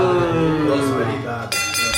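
Drinking glasses clink together in a toast among a group in Joinville, Brazil; a bright, ringing clink rings out near the end of the moment, under and after lively talking voices.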